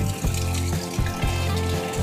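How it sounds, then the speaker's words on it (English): Steady, loud rush of water pouring out of the road near a river trail in Oregon, a continuous splashing gush that runs through the whole clip. "There's water coming out of the road."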